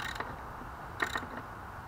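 Wrench on the chain adjuster bolt of a 2003 Suzuki GSX-R 1000 on a stand, giving a few short metallic creaks and ratcheting clicks, close and fairly quiet, with a stronger pair of clicks near the middle.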